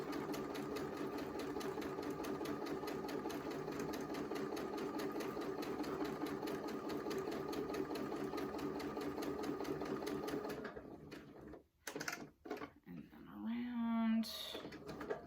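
A sewing machine runs steadily while stitching a square-in-a-square quilt block, a close, even motor whir with rapid needle chatter that stops near the end, followed by brief handling clicks and a person speaking.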